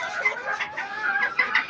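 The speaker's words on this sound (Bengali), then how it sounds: "এই যে একটা মুরগি ডিম পারলো" Hen clucking after laying an egg, a steady run of close, busy clucks and cackles with no talk over them.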